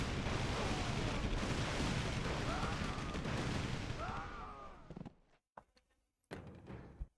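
Heavy rifle fire in a video game, a dense, loud barrage of shots with booming impacts that rolls on steadily, then breaks off into a few scattered bursts and gaps.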